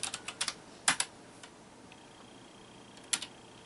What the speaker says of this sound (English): if we type "talk Sultan," it doesn't let us